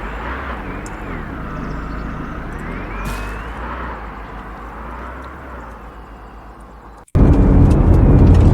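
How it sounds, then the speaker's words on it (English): A taxi car in the Arma 3 video game drives steadily with a low engine drone and road rumble that slowly fades, then a sudden loud burst of noise cuts in at the very end. "taxi returning home"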